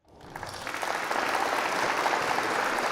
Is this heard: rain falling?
no